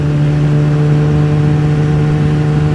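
A motorbike ridden along a road in Hong Kong by day, its engine giving a loud, steady, close drone with a strong low hum that holds unchanged for the whole stretch.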